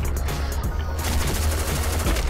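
Rapid automatic fire from a Kriss Vector in the video game Black Squad: a loud, continuous stream of close, sharp shots with no pause, filling the whole moment.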